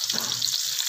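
Green chillies hitting hot oil with crackling mustard seeds give a steady, bright frying sizzle that holds for about a second, with a brief low rustle of stirring near the start.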